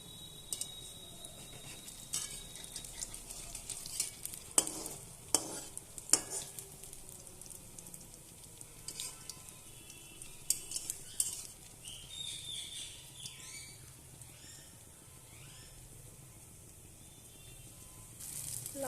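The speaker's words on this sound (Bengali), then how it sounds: "তেলের মধ্যে ডালগুলো দিয়ে দিয়েছি" Lentil fritters (dal bora) frying in oil in a pan, a continuous soft sizzle punctuated by clattering spatula knocks and crackles, loudest in the first half and settling to quieter bubbling, without talk.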